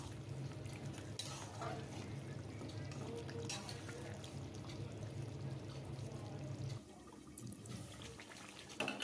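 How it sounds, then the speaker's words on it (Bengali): Meat being stirred and browned in a pan, a steady low sizzle and scraping running throughout with occasional clatter of the spoon, fairly faint and continuous. "মাংসটা আমি নেড়ে চেড়ে ভালোভাবে কষিয়ে নিচ্ছি।"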